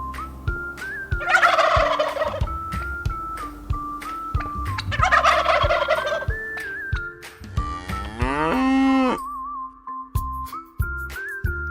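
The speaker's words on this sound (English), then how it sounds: "turkey" A turkey gobbles in two loud bursts over a steady background of tonal music, followed by a cow-like moo and a few other farm sounds near the end.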